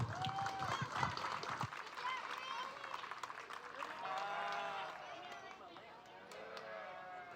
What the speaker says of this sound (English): give them a nice loud round of applause